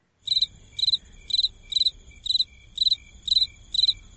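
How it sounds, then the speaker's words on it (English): Crickets chirp in a steady, regular rhythm, eight evenly spaced trilled pulses close by over a faint low background hum, with no voices. "Where are these freaking crickets?"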